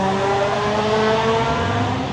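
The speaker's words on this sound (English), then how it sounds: "So that was a Civic." A loud Honda Civic drives past at close range, its engine roaring steadily with a rising and falling pitch, no voices.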